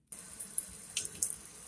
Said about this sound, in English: Let's wash you all off in the shower.